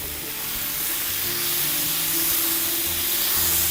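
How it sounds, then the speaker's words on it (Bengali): Boiled egg noodles sizzling loudly in a hot pan as they are mixed, a dense continuous hiss that builds slightly and holds steady, close up with no speech. "যেহেতু সিদ্ধ করাই আছে, এখন শুধু মিক্সিং"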